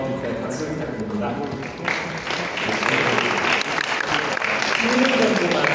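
Audience applause at the close of a panel discussion, a dense steady wash of clapping that swells after the first couple of seconds and carries on at full strength.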